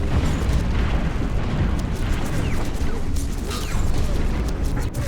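Light ships fire auto-cannons in a Stellaris space battle, a dense, continuous barrage of rumbling bursts and pops that stays loud throughout, with a few faint higher zips cutting through.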